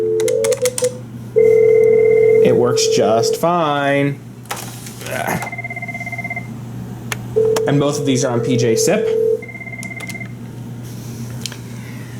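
A Cisco IP phone set to extension 2001 on a PJ-SIP system rings after being dialed, with repeated electronic tone bursts and dialing beeps that come and go beneath someone talking nearby.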